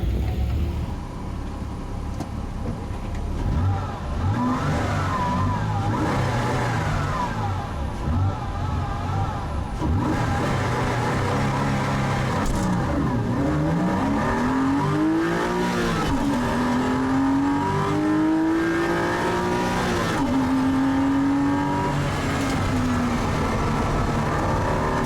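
Porsche race car engine at Oulton Park circuit, loud and close, revving and rising in pitch through gear changes as it pulls away, a continuous droning roar with swooping upshifts and no speech.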